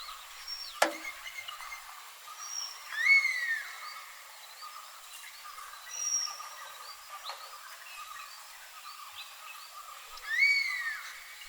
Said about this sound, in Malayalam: തൊട്ടടുത്ത് തന്നെ ഫോറസ്റ്റ് ആയതുകൊണ്ട് അവിടെ നിന്നുള്ള ബേഡ്സിൻ്റെ ശബ്ദം മൊത്തം നമുക്ക് ഇവിടെ നിന്നുകൊണ്ട് തന്നെ കേൾക്കാൻ പറ്റുന്നുണ്ട്